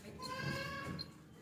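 A Beetal goat of the Makhi Cheeni type bleats once in a long, wavering, nasal call, close by and fairly loud, with faint farmyard background around it.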